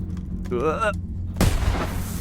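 Bombs detonate in the video game Bionic Bay, a brief warbling tone followed by a heavy, booming blast that rumbles and fades, loud and close under a steady bed of game music.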